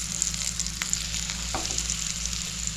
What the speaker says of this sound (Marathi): आता इथे काय होतंय, बोंबील फ्राय, बांगडा आणि कोलंबी.